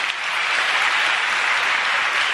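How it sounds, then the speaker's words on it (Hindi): An audience claps in a dense, steady wash of applause that stays loud and even throughout, with no talk over it. "ताली बजाइए"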